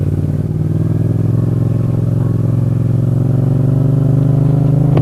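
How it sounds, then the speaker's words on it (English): Yamaha FZ-07 motorcycle engine while riding, a loud steady low throb with rapid firing pulses and a slight rise in pitch, close to the rider with wind noise. "I literally have no key in the ignition as I'm riding this bike."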